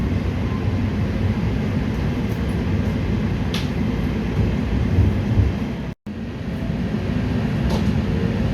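LA Metro E-Line light rail train running steadily, a loud continuous low rumble and rolling noise heard from on board, with a brief dropout near the end.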